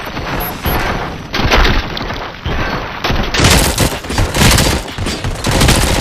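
Sustained gunfire in the RoboCop: Rogue City video game, dense fusillade bursts with heavy booming impacts repeating loudly and close for several seconds, no voices.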